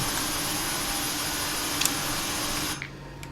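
Engine 2 of an ERJ 170 spooling up in Microsoft Flight Simulator 2020 gives a steady, loud, broad roar with a brief click partway through, then drops off sharply near the end.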